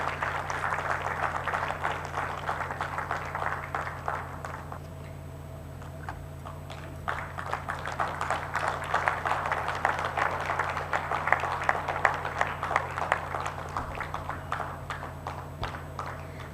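A graduation ceremony audience applauds steadily for a long stretch, a dense patter of many hands with a brief dip in the middle, heard from a distance over a low hum.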